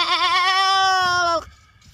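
A man imitates a goat, giving one long, loud, wavering bleat with a quavering, nasal tone that ends abruptly after about a second and a half.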